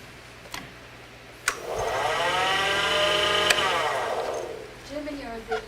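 A wood lathe turning a globe ornament hums up to speed with a rising motor whine, holds steady for a few seconds, then winds down, with a few sharp clicks around it.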